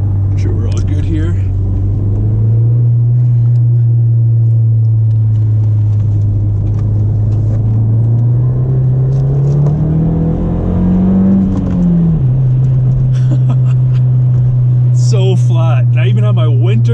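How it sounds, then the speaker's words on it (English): Ford Fiesta ST with a turbocharged engine driven hard through a corner, a steady low engine drone rising and falling in pitch with revs, loud and continuous, with rattles and a person talking over it. "this car has a lot more shakes and rattles than I'm typically used to"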